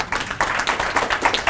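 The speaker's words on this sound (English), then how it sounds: "I think we have a reason to clap." Audience clapping at a gathering, a short burst of scattered hand claps from many people, fairly close and steady, with no talk over it.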